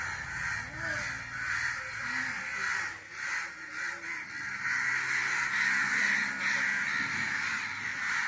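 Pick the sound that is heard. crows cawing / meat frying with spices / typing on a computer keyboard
crows cawing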